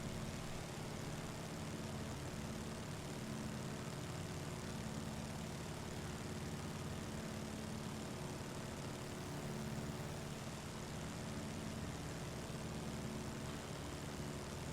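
Small propeller airplane flying low over Astoria, Oregon and its regional airport, a steady continuous engine and propeller drone heard from inside the cabin, loud and unbroken throughout with no voices.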